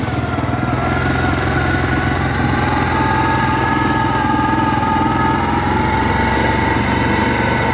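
A four-wheel-drive vehicle rolls steadily along a frozen winter trail at Big Lake, its engine droning in a continuous, loud hum with a rising and falling tone and constant road rumble, no talking over it.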